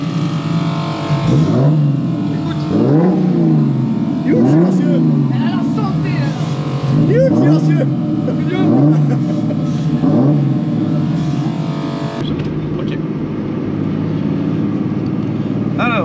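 A turbocharged BMW E36 325i engine runs just after its first start on new Maxpeedingrods connecting rods. It is loud and close, revving in repeated rising and falling sweeps before settling to a steadier idle, with voices nearby.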